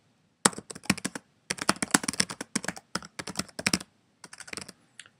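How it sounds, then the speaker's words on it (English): Quick bursts of typing on a computer keyboard, close and crisp, with clustered key clicks separated by brief pauses and no talk. "my typing is not up to par"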